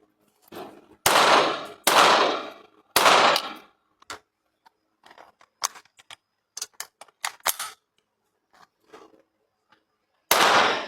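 Gunshots at shooting practice ring out as sharp, loud broadband cracks, a few heavy blasts near the start and end with a scatter of fainter, shorter pops between, separated by brief silences and with no talking.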